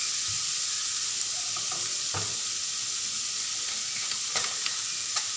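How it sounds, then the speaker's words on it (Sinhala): Chopped tomatoes drop into dried fish curry as it fries in a pan for a Sri Lankan karawala thel dala, giving a steady close sizzle with a few soft stirring scrapes and clatters and no talk. "මම දැන් කපලා තියාගත්ත තක්කාලි ටික දා ගන්නවා."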